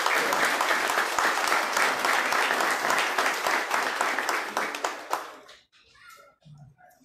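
A ceremonial session at a municipal chamber, where the audience gives a round of applause that stays dense and steady for about five seconds, then fades out into near silence with faint murmurs.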